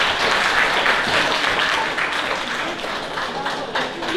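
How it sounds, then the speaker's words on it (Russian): Sustained applause from an audience honouring a teacher at an awards ceremony for a Russian and Abkhaz literature contest, dense steady clapping filling the room for several seconds, easing slightly toward the end. "Аплодисменты учителю."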